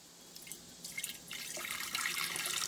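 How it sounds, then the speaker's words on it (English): Wild grape juice poured into a pitcher for homemade wine starts with scattered drips, then builds into a steady, close-up liquid trickle and splash. "So I'm going to pour the juice into here, and then I'm going to pour it into here to see exactly how much we have."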